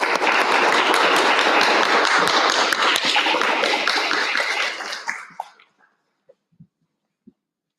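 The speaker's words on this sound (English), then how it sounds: "It's always nice to get a round of applause for walking up with a coffee." An audience applauds as speakers walk up for the first freelancing session at a music-career event, with dense, sustained clapping that fades out after about five seconds, leaving a few stray claps.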